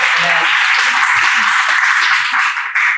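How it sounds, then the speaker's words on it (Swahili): A church congregation at a testimony service in Kisii, Kenya claps together in a loud, sustained wash of applause that runs the whole stretch without a break. "Tumpige Yesu makofi."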